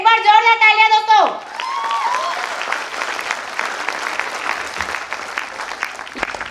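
Loud, dense applause from an audience at an event honouring a pageant title holder rises after a brief spoken passage and carries on steadily, with faint crowd voices mixed in.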